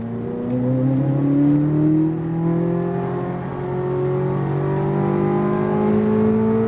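A Corvette Z06 accelerating on a race track at SpeedVegas, its engine note climbing steadily through rising revs in two loud sweeps with a brief dip between, heard from inside the car without talk.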